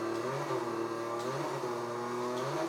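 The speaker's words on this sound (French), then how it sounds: "Là tu peux faire un beau drift" A car engine holds a steady high-revving drone in the Need for Speed racing game while drifting, tonal and continuous at close range with no speech.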